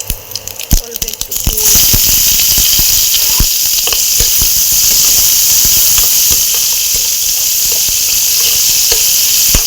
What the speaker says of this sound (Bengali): ওই তেলের মধ্যে আমি 5 ফোড়ন দেবো,